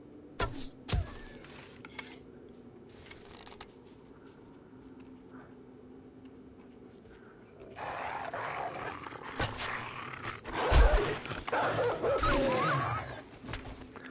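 Zombie dogs in the survival game 7 Days to Die growl and snarl close by, with low rumbling and sharp bursts of noise that grow louder and busier toward the end, alone without talk.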